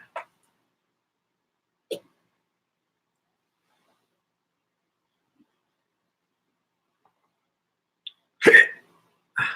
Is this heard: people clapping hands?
no